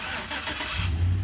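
A 2013 Chevrolet Silverado's engine turns over by remote start with a burst of cranking, then settles into a steady low rumble close by.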